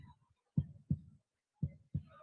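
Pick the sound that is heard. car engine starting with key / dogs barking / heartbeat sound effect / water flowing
heartbeat sound effect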